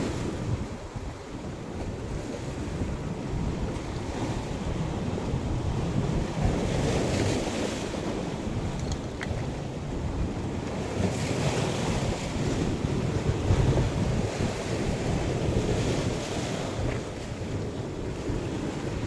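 Ocean waves at high tide washing over a rocky shore, a steady, loud rush of surf with wind buffeting the microphone throughout and no voices.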